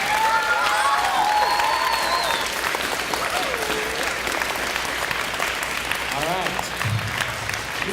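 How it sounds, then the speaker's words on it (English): School audience with many children gives sustained applause at Pocatello Community Charter School, a thick, steady clatter of clapping mixed with scattered shouts and chatter throughout. "let's make sure we give Outer Limits a big round of applause and tell them thank you"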